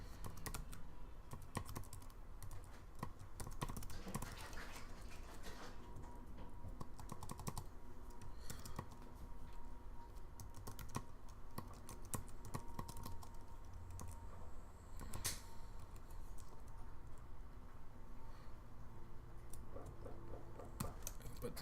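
Steady keyboard typing on a computer, clicking continuously and fairly close for the whole stretch, with no talk over it.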